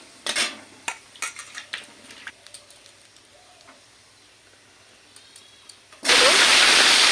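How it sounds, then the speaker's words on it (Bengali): Cut potatoes go into hot oil in a pan after a few quiet clinks of a utensil, bursting into a loud, steady sizzle that fills the last second. "একে একে এরকম করে সব আলুগুলোই ছেড়ে দিচ্ছে"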